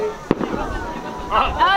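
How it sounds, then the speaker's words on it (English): Fireworks set off outdoors in Nashville during the 2017 solar eclipse: one sharp bang, then crackling and whistling pops, with people talking and reacting nearby. "Fireworks."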